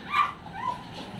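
A dog in a kennel barks and yelps, one sharp bark followed by a couple of shorter, whiny yips, fairly close and alone.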